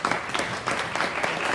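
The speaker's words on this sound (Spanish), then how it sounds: "Pues nuevamente un aplauso." A church congregation at a Methodist service claps together in sustained, dense applause, moderately distant and steady throughout the short stretch.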